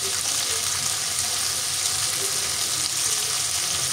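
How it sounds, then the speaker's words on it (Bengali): Whisked sour yogurt thinned with water poured into a hot cooking pot, giving a steady, dense sizzling hiss that holds evenly throughout with no talking. "এখন এখানে আমি সেই টক দই ওপর থেকে দিয়ে দিব।"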